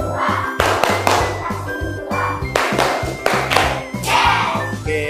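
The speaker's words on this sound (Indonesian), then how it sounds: "kita tepuk matematika dulu ya, biar lebih semangat lagi. Ayo, tepuk matematika." A class performs a rhythmic clapping chant, with crisp bursts of many hands clapping together in a repeating beat pattern over a steady low hum, fairly close and loud.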